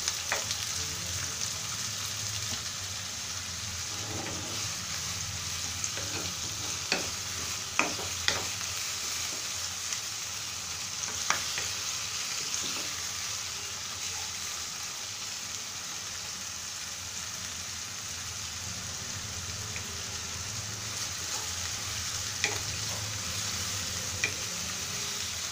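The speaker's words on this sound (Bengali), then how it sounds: "আমরা পেঁয়াজটা হালকা ভেজে নেব, জাস্ট সেদ্ধ হলেই হবে," Onions sizzle gently in a hot pan while being stirred, a steady soft frying hiss broken by occasional scraping clicks of the spoon, heard close and without any voices.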